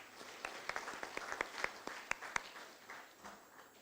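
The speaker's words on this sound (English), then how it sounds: "Let's have a big round of applause for all our winners." Applause for winners at the PEDRR 2025 closing ceremony at Expo Pakistan, heard as a sparse, faint scattering of claps from a distant audience, with a few sharper individual claps standing out over a soft background.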